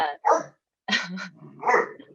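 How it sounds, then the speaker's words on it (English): A large dog barks and groans in short, uneven bursts somewhere in the background of a room, its sounds mixed with bits of human talking. "You might hear my giant dog in the background groaning because he just decided it was time to groan."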